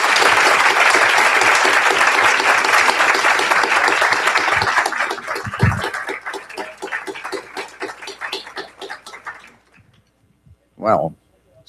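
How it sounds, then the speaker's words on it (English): Big round of applause from an audience after a business law session, dense clapping that thins out into scattered claps and fades, followed by a brief voice. "I would like to ask a big applause for you."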